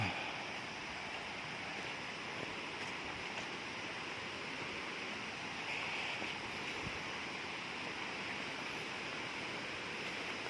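A steady, broad rush of a waterfall roars continuously at a distance, unchanging and even, with no voices.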